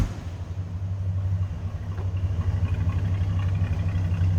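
A 1969 Chevrolet Chevelle four-door hardtop with its 307 V8 runs steadily at idle, giving a deep, even rumble heard close up and alone, with no talk over it.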